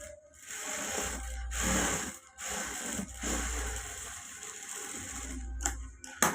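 A sewing machine stitches the top side of a blouse in three separate bursts of loud, close mechanical whirring, with short pauses and handling between runs.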